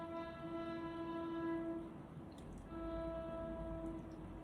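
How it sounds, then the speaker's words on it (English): A train rolls past with a long steady horn blast made of stacked tones, holding loud for nearly two seconds, dropping briefly, then sounding again over a continuous low rumble of the passing cars. "Let me let this train go by."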